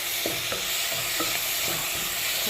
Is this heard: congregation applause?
no